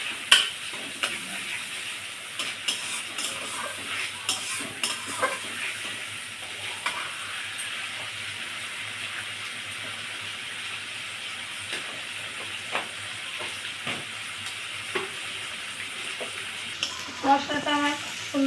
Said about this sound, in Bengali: দিয়ে আমি মশলাটা সুন্দর করে কষিয়ে নেব